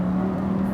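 Lamborghini Huracan STO engine at Las Vegas speedway, a steady loud droning hum under throttle that holds throughout without breaks.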